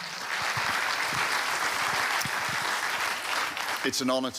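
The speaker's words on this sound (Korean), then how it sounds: "큰 박수로 환영해 주십시오." An audience at a prison ministry conference opening ceremony claps to welcome a speaker to the stage, a sustained, moderately loud wash of applause, with a voice speaking near the end.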